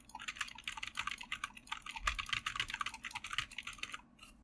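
Rapid, continuous clacking of a loud computer keyboard being typed on, close and busy with bright key strikes and an occasional heavier thump, stopping just before the end, with no voices.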